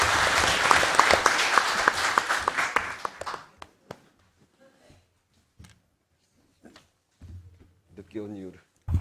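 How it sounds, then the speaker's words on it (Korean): Attendees at a public forum on rental housing applaud to welcome an arriving lawmaker, a lively burst of clapping for about three seconds that quickly dies to scattered claps and room noises, with brief speech afterward. "일단 박수로 좀 환영해 주시기 바랍니다"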